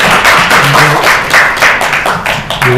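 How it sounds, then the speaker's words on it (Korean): A forum audience applauds as a presenter is invited to the stage, dense close clapping that pulses in waves and stays loud throughout. "박수 부탁드립니다."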